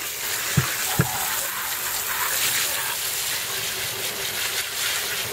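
Water sprays steadily over a Ridgid 22-inch mobile gear cart toolbox, a continuous hissing gush with two brief knocks near the start.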